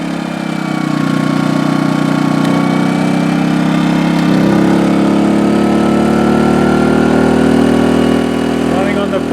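A portable generator engine runs steadily under its full 1600 watt load, a loud close drone with a strong low hum that shifts slightly in pitch partway through, with speech in the background.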